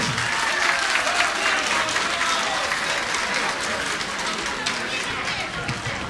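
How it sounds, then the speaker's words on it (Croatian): An audience at a community gathering claps steadily and loudly for several seconds, a dense sustained wave of applause that fades slightly toward the end. "Jedan veliki ogromni aplauz za Iowa"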